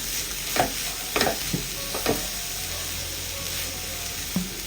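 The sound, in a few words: stirring boiled mashed potato into mixture in pan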